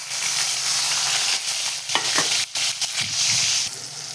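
Onions sizzle and fry in hot oil with mustard seeds, a steady loud crackle with short stirring scrapes and clinks near the end, no talking.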